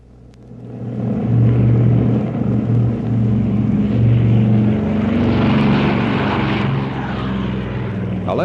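Alaskan bush plane propeller aircraft droning steadily and loudly, a deep low rumble rising in as it nears and holding strong throughout, with faint voices mixed underneath.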